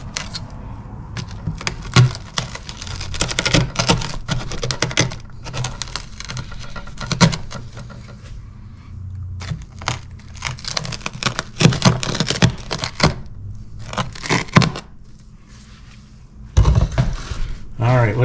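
A crispy whole wheat pizza crust is cut, a series of crackling, crunching strokes with uneven rhythm, close and moderately loud, with a pause and one more burst near the end.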